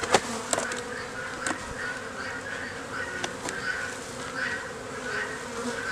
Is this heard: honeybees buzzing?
yes